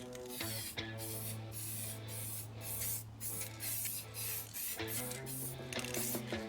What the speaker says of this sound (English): Now start spraying.